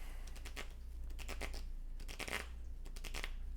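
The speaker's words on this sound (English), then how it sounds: "I'll keep shuffling like that until you say stop" Playing cards being shuffled by hand during a magic trick, a steady close riffle of rapid crisp flutters in repeated bursts with no talking, over a low hum.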